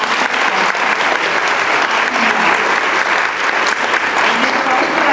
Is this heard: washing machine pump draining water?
no